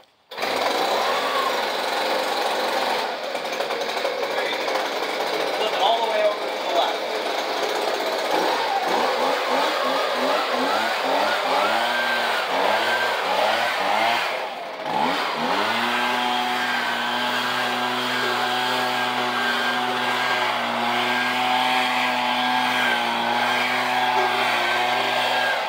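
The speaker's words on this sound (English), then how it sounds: "Start the backpack blower." A gas backpack leaf blower is pull-started with a few sputtering cranks, then its small two-stroke engine catches and runs with a steady, loud, buzzing drone, close by and alone.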